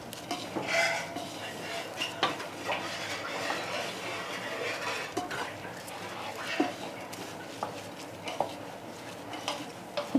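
Karika, a Lakshadweep fish, is mixed by hand with salt, turmeric and vinegar in a dish, giving repeated clinks, scrapes and taps of metal utensils against the bowl, close and fairly quiet, with no talking.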